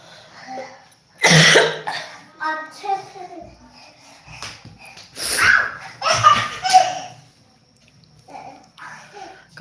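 A person coughs during a live stream at home, a harsh loud burst followed by more coughing fits later, with people talking in between.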